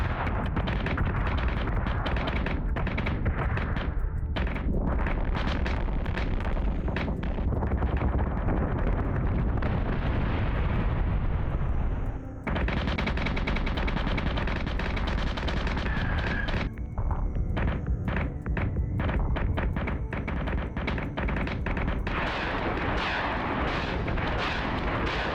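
Sustained weapons fire fills a space battle in Battlestar Galactica: Deadlock, with a loud, continuous barrage of rapid booming shots and crackling bursts, briefly dipping midway before resuming at full intensity.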